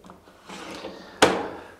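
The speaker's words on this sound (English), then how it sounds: "The detergent dispenser drawer is sturdy and self-cleaning." A plastic detergent dispenser drawer on a Miele Classic WDA100 washing machine slides along its track, then shuts with a sharp, close clack that briefly rings out.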